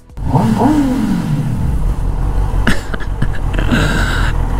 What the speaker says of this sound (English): The sound of a 1000cc 4-stroke engine is just epic.